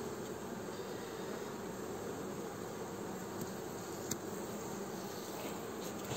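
A honeybee buzzes around a beekeeper working at a hive, a continuous close insect drone that holds steady throughout.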